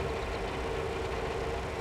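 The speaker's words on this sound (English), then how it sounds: "side view of the tractor rolling." A tractor engine in the Farming Simulator 22 farming game hums at a steady, unchanging low drone while the machine rolls along, with no voices over it.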